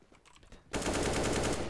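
Sustained automatic AK rifle fire in CS:GO, a loud rapid burst of evenly spaced shots that cuts in abruptly after a quiet moment and continues steadily to the end.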